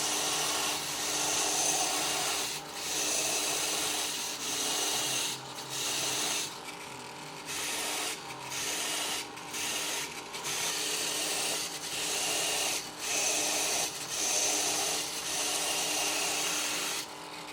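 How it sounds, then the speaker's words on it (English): Gear wheels being deburred and chamfered on an Emco Super 11 lathe, a continuous scraping rasp with regular brief dips as the tool works around the teeth. "So that's a very fast way to deburr these wheels,"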